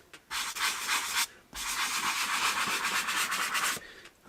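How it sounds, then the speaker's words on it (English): Sandpaper rubs over a scratched BMW leather seat bolster in two close strokes, a short rasp and then a longer steady scratchy one, with brief pauses around them. "you can use the sandpaper to smooth it"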